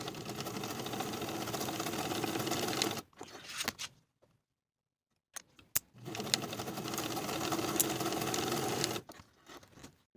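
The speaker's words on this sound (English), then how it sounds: "Sew the short edges with a 3/8 inch seam allowance." A sewing machine stitches the short edges of a fabric cuff in two steady whirring runs of about three seconds each, close and even, separated by a silent pause with a few small clicks of handling.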